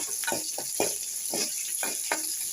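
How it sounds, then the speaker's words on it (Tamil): Onions and curry leaves tempered in hot oil for a paruppu kuzhambu sizzle and crackle in several short bursts over a steady hiss, close by and moderately loud. "நல்லா பொரியட்டும். கொஞ்சோண்டு வெங்காயமும் கருவேப்பிலையும் போட்டுருவோம்."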